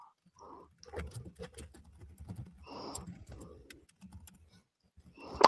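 Computer keyboard typing during a tabletop game session, a scatter of quick close key clicks in short irregular bursts, mixed with soft voices talking in the room.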